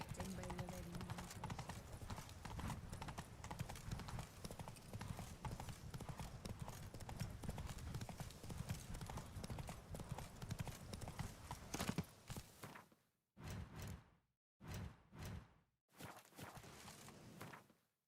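Roach the horse trotting in The Witcher 3: Blood and Wine, steady rhythmic hoofbeats under ongoing dialogue, close and fairly loud, then breaking into a few separate thuds before stopping.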